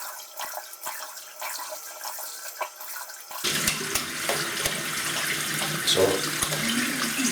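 Tap water runs into a sink as a person rinses their face and neck after shaving, a steady splashing stream that starts loud partway through, with intermittent splashes from cupped hands.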